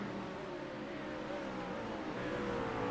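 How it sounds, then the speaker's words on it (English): A Ford race car engine in World Challenge racing at Sebring drones with a steady, slightly rising tone, heard from some distance and fairly faint, alone without talk. "Ford engine does sound pretty good."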